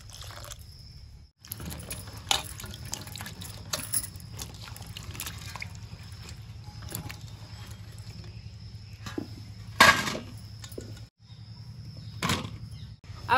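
Satputiya vegetables are washed under running water, with a steady low stream in the background. Occasional clinks, splashes and handling knocks rise above it, mostly faint with one louder burst near the middle.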